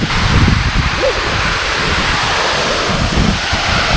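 Steady, close rush of a small creek flowing toward a waterfall at a calm, moderate flow, a continuous broadband wash of water with light wind buffeting on the microphone and no speech.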